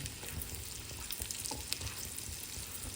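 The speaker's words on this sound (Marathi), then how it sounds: "असे आता छान परतून घ्यायचे लसूण चांगली त्यात मुरली पाहिजे" Garlic and ginger sautéing in butter in a pan for garlic masala pav, a steady close sizzle and crackle throughout with light stirring scrapes, no talk.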